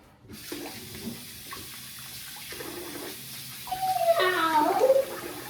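Tap water runs steadily while a face is rinsed after a shave, with splashing growing louder near the end of the clip; someone speaks briefly at the start.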